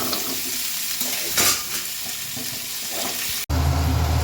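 Small whole boiled potatoes, skins on, fry and sizzle in hot oil in a pan, with a steady close crackle and a few scraping stir strokes before a brief cut to a louder burst of frying.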